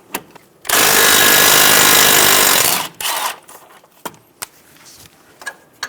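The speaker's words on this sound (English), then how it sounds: "Using a 12mm socket, remove the bolt for the brake line bracket." A 12 mm socket on a power tool spins out the brake line bracket bolt on a 2010-2014 Subaru Outback strut, one loud whirring burst of about two seconds, then a short second burst and scattered clinks.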